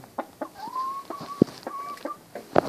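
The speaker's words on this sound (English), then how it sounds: "Stupid flocking birds." Chickens clucking close by, a few short clucks and a drawn-out rising cackle, with soft scuffling and bumps around them.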